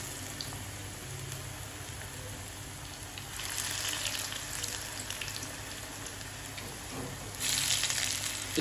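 Bread snacks with a raw potato filling frying gently in a pan over a low flame, giving a faint, steady sizzle that swells into brighter crackling bursts twice, heard close with no voices.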